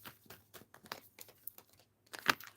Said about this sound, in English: Two more shuffles and I will pull from the top.